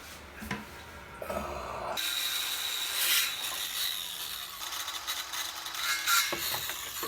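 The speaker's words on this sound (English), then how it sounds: "I have to also use saw to trim the edges because some sides is not exact" A saw rasps steadily through trim edges during a bathroom shower remodel, a close, continuous scraping and cutting noise that swells and eases over several seconds, preceded by a few brief knocks, with no voices.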